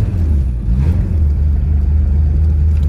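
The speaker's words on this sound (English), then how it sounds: "to start the car, push in the clutch, the parking brake is on, push the starter pedal with the key on." Engine of a 1937 Oldsmobile F37 touring sedan running steadily right after being started with the starter pedal, a close, continuous low rumble with a brief rise in revs near the start and no talking.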